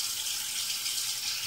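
A quarter cup of plain water pours in a steady, hissing splash, close by and unbroken, with no voices.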